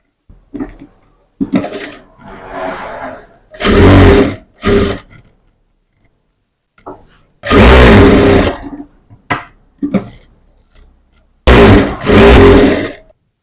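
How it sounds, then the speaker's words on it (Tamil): An electric sewing machine stitches blouse lining fabric in several loud, sustained runs of a few seconds each, separated by quieter pauses with faint handling noises. "இந்த லைனிங் மேல துணி சுருக்கம் இல்லாமல் நல்லா எடுத்து தையல் போட்டுடலாம்"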